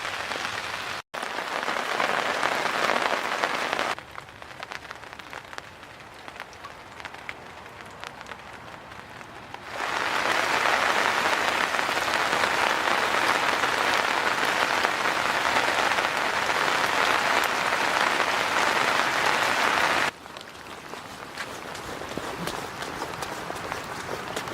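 Heavy rain hammers down in the Alps in a dense, continuous roar, loud and close, with its strength shifting between heavier and lighter stretches across the whole span.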